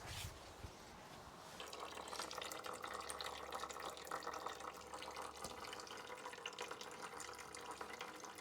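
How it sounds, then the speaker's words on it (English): Differential fluid drains steadily from the rear differential of a RAM 1500, a faint continuous trickling and splashing heard alone. "while the back is draining"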